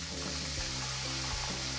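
Eggplant frying in a pan of hot oil gives a dense, steady sizzle and crackle, close and even throughout with no voices.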